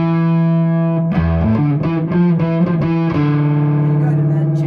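A bass guitar runs through a distortion effect, playing loud, buzzy sustained notes with a short run of shifting pitches in the middle, close and dominant.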